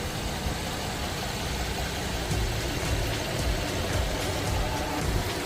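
A car engine with 170,000 km on it runs at a steady idle, a smooth, even hum with a faint hiss above it, close and moderately quiet throughout.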